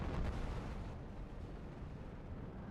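Distant artillery fire in Steel Division 2 forms a low, rumbling wash of booms, fairly quiet and continuous, with no distinct separate blasts.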